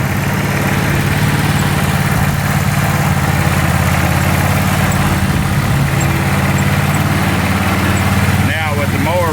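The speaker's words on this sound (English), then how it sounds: "with the mower running, you can't do reverse" An SST 16 riding mower's engine runs steadily, loud and close, with a constant low idling drone that holds throughout.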